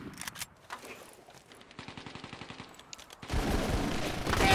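Squad rifle and machine-gun bursts from the video game Full Spectrum Warrior, rapid rhythmic volleys that build into a dense, loud sustained fusillade near the end.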